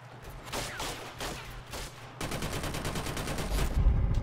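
A light machine gun firing in Killzone Shadow Fall multiplayer, with short bursts at first and then a sustained rapid stream of shots that grows louder with heavy low thumps near the end.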